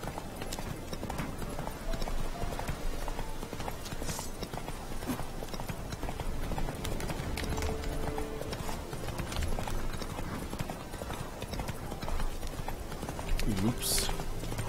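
Horse hooves clip-clopping at a quick, steady gallop in The Witcher 3 video game, sounding continuously under someone talking.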